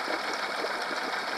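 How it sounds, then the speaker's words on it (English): A Honda 8 hp four-stroke outboard motor idles in a steady, even hum with a light mechanical clatter, moderately quiet and alone. "when I shut off the engine, you know, but at least it's idling good and ready for fishing"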